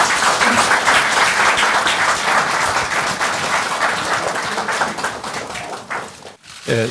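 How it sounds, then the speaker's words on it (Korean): Loud, close applause from an audience at a political event welcoming Moon Jae-in to speak, a dense burst of clapping that thins out and briefly drops away before picking up again at the end. "박수로 맞아주시기 바랍니다."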